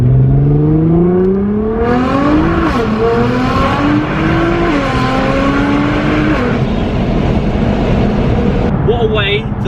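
A Nissan GTR accelerates hard through the gears, its engine note climbing loud and close with quick shift dips between rising pulls, while someone talks over it.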